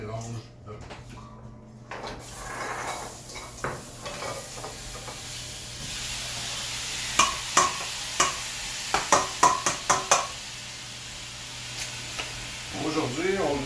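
Sausages fry in a pan with a steady, quiet sizzle, broken by a series of sharp knocks and scrapes from utensils. A person talks over the cooking sounds at the beginning and again at the end.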